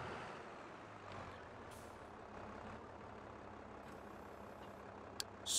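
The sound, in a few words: truck braking in video game Farming Simulator 22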